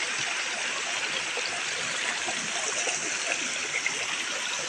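Water runs from a water tank on a mountainside at Tubod Gaang, Tuburan, Cebu, a steady, even rush and trickle that continues unbroken and fairly close.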